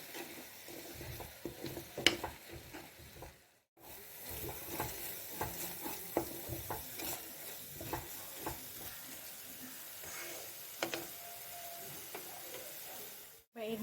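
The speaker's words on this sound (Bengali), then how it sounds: "একটা বড় সাইজের টমেটো বেটে নিয়েছি, দিয়ে দেবো। ভালো করে ভেজে নেব।" Ground paste of one large tomato frying in a pan, a faint continuous sizzle with scraping stirs and small spattering clicks, close by and quiet, with a short pause midway.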